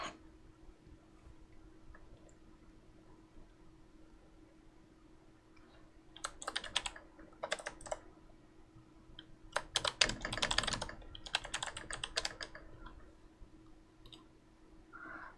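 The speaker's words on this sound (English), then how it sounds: "I'm just quickly typing up the other options here." Typing on a computer keyboard during a chatting and art stream, with quiet clicks at first, then two dense bursts of rapid keystrokes, fairly close and with no talk over them.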